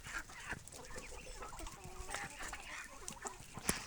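Several chickens and roosters cluck and chatter continuously in a busy farmyard, with occasional louder squawks rising over the flock.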